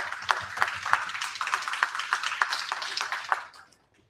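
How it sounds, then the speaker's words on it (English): Audience at a county Democratic Party community meeting in Oklahoma gives a round of applause, a steady patter of many hands clapping at moderate level that fades out near the end. "please give yourselves a round of applause for coming here today"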